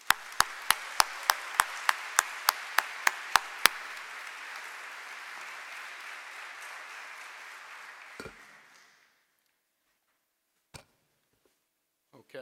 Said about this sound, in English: let's give him a round of applause, please.